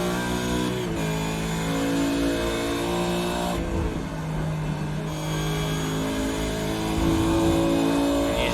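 Supercars race car engine at Road America in iRacing, throttle feathered through a shaded, slippery corner; a loud sustained engine drone with steady harmonics wavers and dips briefly, then swells again as the throttle opens, with no talk.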